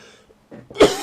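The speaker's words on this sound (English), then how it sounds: "as he starts to cough already" A character in the Napoleon: Total War game coughs once, a short harsh burst near the end after some quieter rustling, fairly close and loud.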